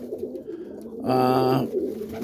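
Domestic roller pigeons in a backyard kit give a loud, close, sustained cooing call for about half a second, standing out over a background of softer ambient noise.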